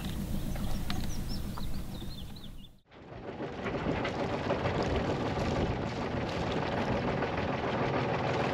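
A sailboat's inboard engine runs with a steady low rumble and chirping birds audible, then cuts off abruptly; afterwards a broad, continuous wash of wind and water noise fills the rest, without any talking.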